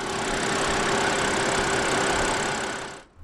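A 2005 BMW 523i E60 with its N52B25 2.5-litre naturally aspirated inline-six petrol engine idles smoothly and evenly after start-up, a steady close hum that cuts off abruptly near the end.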